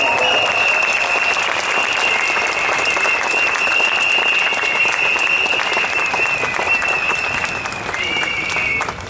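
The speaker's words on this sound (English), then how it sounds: "Can you give them a round of applause?" A crowd at a Singapore Democratic Party election rally gives a loud, continuous round of applause, steady clapping that holds for several seconds before tapering near the end.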